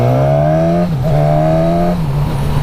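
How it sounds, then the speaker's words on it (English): A 2019 Suzuki Katana motorcycle engine revs loudly and close, a snarly engine note full of induction roar holding steady with slight pitch shifts and no talking. "A load of induction roar, which is nice. And a real snarly engine."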